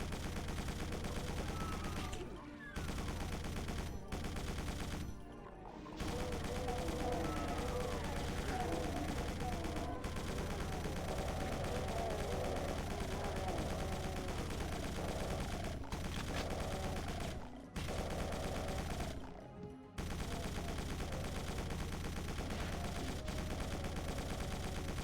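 Rapid sustained chaingun fire from a chaingunner enemy in the Doom mod Hellbound, dense continuous bursts with brief gaps, loud and up close throughout.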